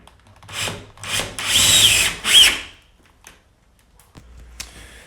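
Power drill with a countersinking bit whirring in short bursts into screw holes in a wooden wardrobe carcass, four close, distinct spins followed by quieter handling noises.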